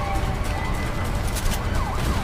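A police car siren wails during a getaway chase in the video game A Way Out, over a dense rumble of engine and gunfire noise. The sweeping siren tone is steady and prominent throughout, with no voices.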